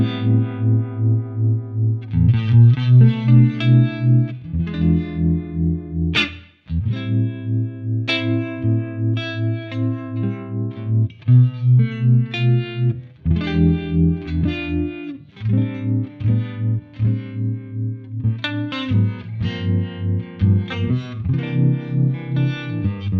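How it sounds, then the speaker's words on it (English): An electric guitar plays a slow, delicate melody with a pulsing, wavering volume and a shimmering modulated tone, loud and close. "Bit of tremolo for those more delicate moments."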